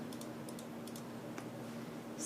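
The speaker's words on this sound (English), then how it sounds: "So do you like my rainbow keyboard" Typing on a Razer BlackWidow Chroma mechanical keyboard, a few quiet clusters of key clicks over a low steady hum.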